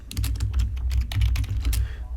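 Rapid, uneven keystrokes on a computer keyboard as a DAX formula is typed in Power BI, close and crisp, in short bursts with brief pauses.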